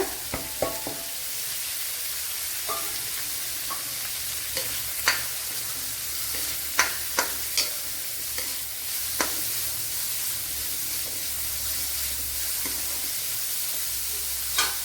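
Two medium onions and a small onion fry in a pan for an okra curry, giving a steady close sizzle broken by occasional sharp clicks and scrapes of stirring, with no talking.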